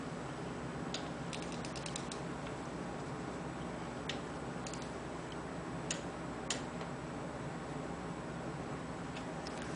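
A torque wrench clicking as bolts are tightened on a BMW R90/6 final drive, sharp faint ticks in scattered small clusters over a steady background hum.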